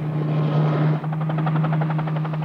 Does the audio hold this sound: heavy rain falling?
no